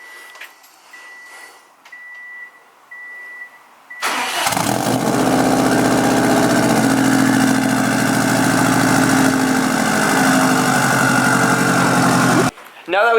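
A Subaru WRX STI with a 3-inch straight-pipe exhaust cranks and fires up, then idles with a loud, steady, deep rumble. Quiet background noise comes before the start, and the engine cuts off abruptly near the end.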